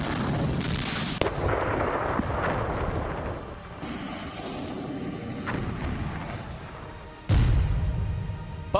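Artillery and weapons fire from the Russia-Ukraine war, bursts of loud booms and crackling blasts with a heavy close explosion near the end, no speech.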